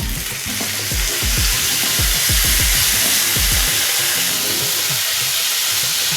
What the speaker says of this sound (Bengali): এই ছোলাটা এবার দিয়ে দেব।